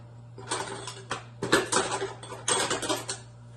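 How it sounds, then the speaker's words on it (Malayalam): A spoon stirring rice gruel (kanji) in a metal pot, irregular clinks and scrapes in quick bursts with short pauses between, close and fairly loud over a faint steady hum. "നമ്മളൊന്ന് ഇളക്കി നോക്കാം"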